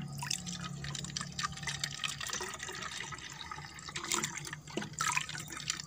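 Liquid from a strained homemade plant extract, an insect-repelling spray for leaves, drips and trickles continuously into a container nearby, with a faint background hum.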